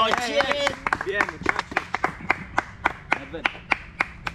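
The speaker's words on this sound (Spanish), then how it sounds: "Un aplauso por Castro." An audience claps for the rapper Castro at a freestyle battle, with brisk, dense clapping at first that thins into sparse, spaced-out claps, while voices talk over the start.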